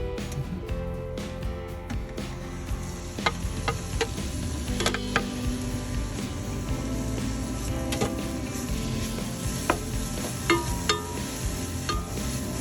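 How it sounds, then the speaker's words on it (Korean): Soaked dried pollock stir-fried in a pot, a steady low sizzle under repeated scraping and stirring clicks from a utensil, close and continuous with no talk. "이렇게 1분 정도 볶아서 황태가 오그라들면"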